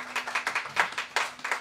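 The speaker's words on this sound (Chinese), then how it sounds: "给他掌声两次" Audience clapping at a live concert at Tiehua Village, a short burst of steady, fairly close applause with no talk over it.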